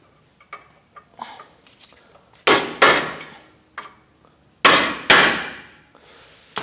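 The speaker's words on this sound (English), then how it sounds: "we're gonna go ahead and hammer that right in" Repeated hammer blows strike a car's lower control arm to knock an indentation flat during a control arm replacement on an Acura RSX Type-S, coming as two loud pairs of sharp metallic hits after some lighter taps and handling clatter.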